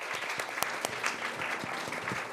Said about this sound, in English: please give a warm round of applause to our panelists and our presenters